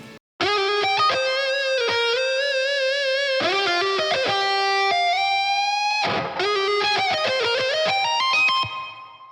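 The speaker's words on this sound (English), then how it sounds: "So the first up here is the lead tone." A distorted electric guitar played through a Line 6 Metallurgy amp plugin lead tone plays a sustained melodic lead line with vibrato and bends, loud and saturated, ending in a fading held note.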